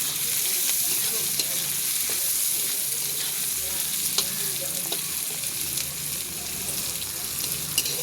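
Carrots and potatoes fry together in a pan, giving a steady, close hiss and sizzle with faint clicks of stirring scattered through, and no voices.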